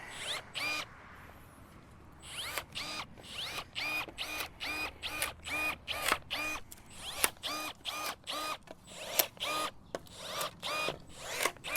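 Battery-powered electric pruners snip through small branches of an invasive tree, a quick series of short whirring motor bursts with crisp cuts in a steady rhythm, close and alone.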